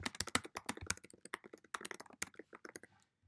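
Typing on a computer keyboard fills the moment with rapid, uneven key clicks, close and soft, slowing to a few final taps before silence.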